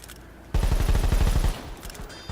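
Rapid burst of automatic gunfire from the World War 3 video game, about a dozen sharp evenly spaced shots in one loud second-long volley, then quiet.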